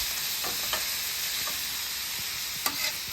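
Sausage with garlic and shallots sizzles on a flat griddle, a dense constant frying hiss with occasional scrapes of a spatula pushing the food around.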